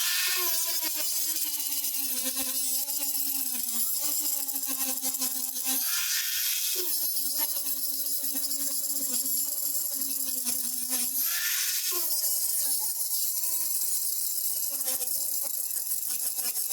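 Angle grinder with a clockwise-spinning disc grinding off narrow-crown staples in inferior framing, a loud continuous high-pitched whine with brief dips and shifts in pitch as the disc bites and lifts off the metal.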